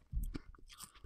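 Crunchy edible crickets bitten and chewed up close, a few quick crisp crunches over about a second with no talking.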